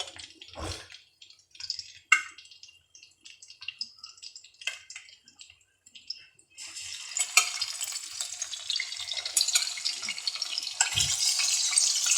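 Chicken pieces added to golden fried onions in a pot for chicken pulao. A few clatters come first, then a loud, steady sizzle and crackle of frying fills the second half, close and alone with no talk.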